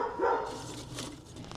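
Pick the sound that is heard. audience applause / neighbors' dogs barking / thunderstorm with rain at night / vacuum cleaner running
neighbors' dogs barking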